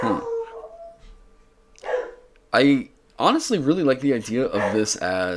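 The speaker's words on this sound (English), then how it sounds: "Sorry about the dogs." Dogs howl and whimper in the background of an indoor livestream, rising in brief wavering bursts between stretches of someone talking, with the howls partly overlapping his speech.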